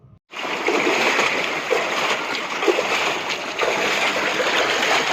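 Splashing in the high monsoon-swollen Ganga at the Devprayag sangam, a dense continuous rush and splatter of water that starts abruptly after a short quiet moment, loud and close with a few sharper splashes.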